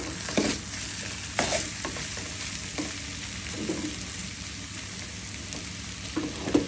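Carrot bhaji fries in a pan with a steady, soft sizzle while a utensil scrapes and stirs it now and then, close by, with no voices.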